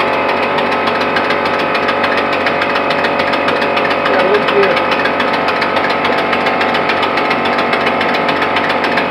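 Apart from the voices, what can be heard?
gasoline engine running on compressed air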